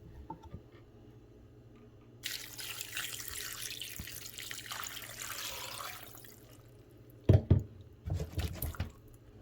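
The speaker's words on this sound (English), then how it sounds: "you're gonna be adding water" Water pours from a tap into a pot of meat and dry fish for banga stew, a steady broadband rush of several seconds that stops, followed by a few nearby clanks and handling knocks.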